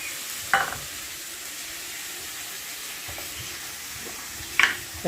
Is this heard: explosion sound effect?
no